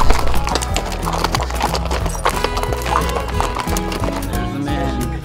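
Horse hooves clip-clop steadily as a ranch horse is ridden along a trail, close and fairly loud, with brief whinny-like sounds and a faint voice now and then.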